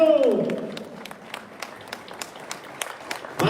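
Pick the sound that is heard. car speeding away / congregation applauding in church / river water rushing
congregation applauding in church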